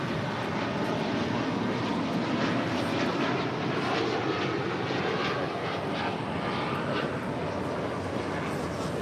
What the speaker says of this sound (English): That was the flight heading to London.